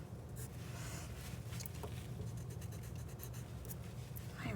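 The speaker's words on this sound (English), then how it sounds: "I'm gonna erase just a little bit" A pencil eraser rubs on paper during drawing: soft, dry, scratchy back-and-forth strokes, fairly faint and close, over a low steady room hum.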